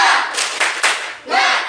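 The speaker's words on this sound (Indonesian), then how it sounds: "coba tepuk semangat" A classroom of primary school pupils shouting a rhythmic spirit-clap cheer together, a loud, close group burst with distinct clap-and-shout pulses rising toward the end.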